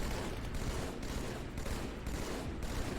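Dense, rapid gunfire from plasma pistols in the video game Halo 2, a loud continuous burst of overlapping shots mixed with battle noise throughout.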